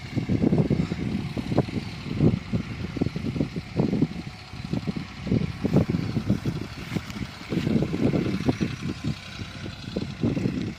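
Two tractors run with a laser land leveler on a farm field, a steady rumbling engine drone with rhythmic low thumps and clanks of the working implement, loud and continuous without talk.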